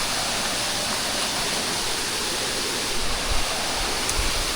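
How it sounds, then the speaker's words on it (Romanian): A waterfall roars in a steady, dense broadband rush, loud and continuous throughout, with no voices over it. "Și era să mă duc să văd cascada de jos."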